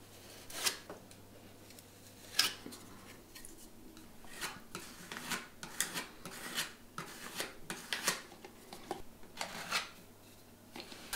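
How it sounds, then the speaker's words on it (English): Fine abrasive sandpaper rubs down dry filler on a hallway wall, producing soft scratchy strokes in an uneven rhythm with short pauses between passes, fairly quiet and close. "the filler is rubbed down with a fine abrasive sandpaper and all residual dust vacuumed away"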